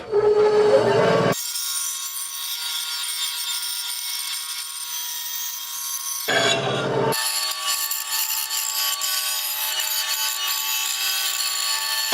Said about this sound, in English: I will say this little Delta bandsaw didn't enjoy doing that project.